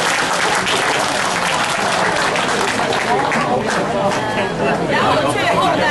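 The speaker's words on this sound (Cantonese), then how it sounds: "大家拍掌。" Applause from a banquet audience at a Toronto alumni anniversary dinner, dense sustained clapping filling the room with crowd chatter mixed in, steady and loud throughout.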